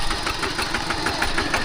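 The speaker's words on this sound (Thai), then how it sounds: "ขับรถไถนี่ฮะ" A farm tractor engine running nearby, a steady mid-pitched rumble with a rapid rhythmic knock, continuous and fairly loud with no talk.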